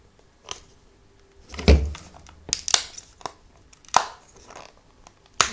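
Close-up crackling and tearing, several sharp sticky rips in irregular bursts as double-sided tape is peeled from inside a motorcycle instrument cluster, with no talking.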